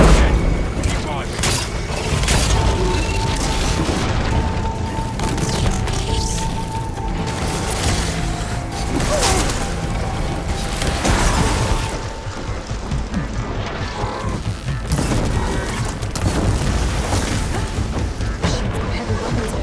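Robotic machine enemies attacking in Horizon Forbidden West, with loud mechanical clanking, booms and crashing impacts over a dense, continuous din of battle, while voices talk over it.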